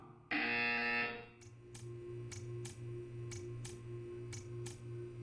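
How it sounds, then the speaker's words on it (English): A loud harsh electronic buzzer from Portal 2 blares for about a second, then a low hum continues with regular soft clicks ticking behind it. "You will hear a buzzer. When you hear the buzzer, stare at the art."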